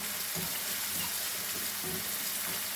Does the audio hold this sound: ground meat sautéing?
yes